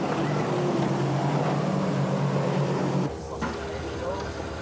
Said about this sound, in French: Là, ce sont les T850, des moteurs un petit peu plus puissants, des moteurs Yamaha qui développent environ 70 chevaux.